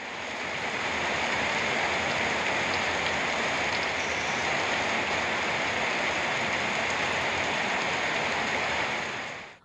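Heavy rain pours down with strong wind around Pattukkottai in Thanjavur district, a dense, constant roaring hiss of downpour that stays loud and even from start to finish.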